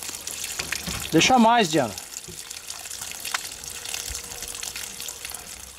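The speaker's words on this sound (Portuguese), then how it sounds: "Tá, então abri a torneira lá dentro. Tá ouvindo a bomba funcionando?" Water runs steadily from a tap inside a parked motorhome, with the onboard water pump humming in the background; the flow stays constant and fairly quiet, and a voice briefly speaks near the start.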